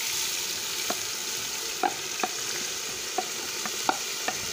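Low, steady sizzling of broken wheat frying in oil, with occasional light scrapes and taps of a spoon stirring.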